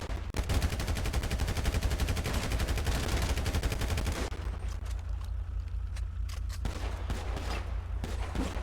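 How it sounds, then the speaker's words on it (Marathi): Video-game gunfire plays as a dense stream of rapid automatic shots for about four seconds, then gives way to scattered single shots over a steady low rumble, all at a modest level. "नॉनस्टॉप तरी आपली फायरिंग वगैरे चालूच आहे"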